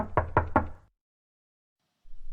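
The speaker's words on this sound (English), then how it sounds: "Knock, knock." A door is rapped three times in quick succession, close and crisp, followed by more than a second of silence before faint low noise returns.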